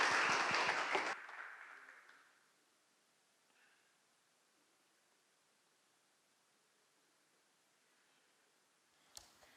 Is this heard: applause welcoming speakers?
yes